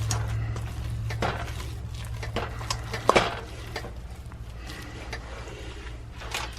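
Chocolate zucchini bread batter stirred in a bowl, with soft scraping and occasional clinks of the utensil against the bowl, a steady low hum underneath and one sharper clatter partway through.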